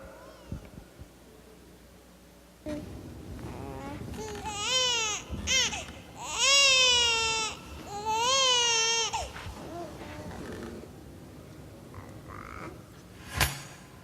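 A baby cries in several loud, wavering wails with short pauses between, over a quieter background and some faint voices.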